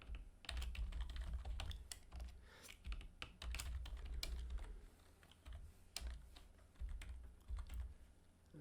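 Someone types a name and date on a computer keyboard in steady, close, quiet clicks for several seconds, with short pauses between bursts of keystrokes.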